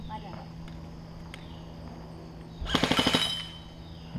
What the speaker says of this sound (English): You shoot your full auto first.